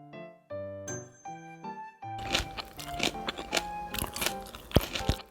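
After a short chiming melody, someone takes crunchy bites of a cucumber and wild chive salad dressed with oil, with close, crisp crackles and crunches in quick succession.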